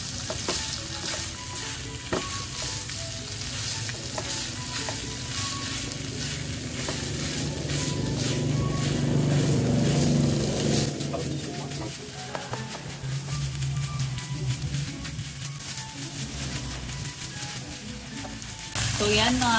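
Shredded milkfish (bangus) sisig fries in a pan with a continuous, dense sizzle and crackle, rising toward the middle, with occasional stirring scrapes; a voice is faintly present underneath.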